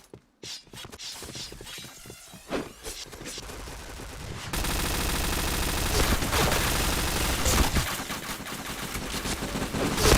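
Rapid gunfire from an MP7 submachine gun in the shooter game Point Blank, sparse shots at first, then a loud, sustained stream of bursts with no talking.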